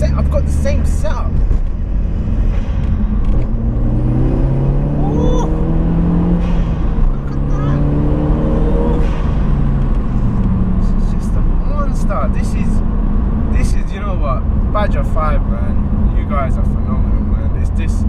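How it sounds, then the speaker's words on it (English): A modified Mk1 Seat Leon Cupra R 225 with the BAM engine, tuned to 287 bhp, revs hard through several rising and falling sweeps, loud and close with sharp pops and crackles, while people talk over it. "The noise this car makes, why doesn't my S3 make the same noise?"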